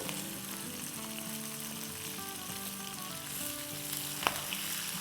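Green chillies frying in oil over a medium-high flame for mango pickle, a constant quiet crackling sizzle with one sharp utensil tap, no voices.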